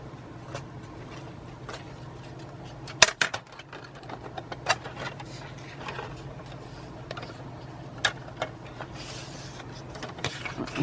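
Scissors cut paper during a craft project making paper spools. Faint, scattered snips and clicks come through over a low steady room hum, with a few sharper cuts standing out.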